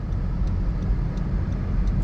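Interior of a 2021 Honda Civic 1.6 i-VTEC CVT running on LPG moving slowly: a steady low road and engine rumble, quiet and even, with faint periodic light ticks.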